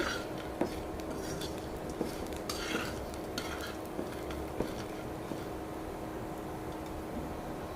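Small chanda fish frying with onions in a pan, a steady broadband sizzle running throughout with scattered clinks and scrapes of a utensil stirring against the metal.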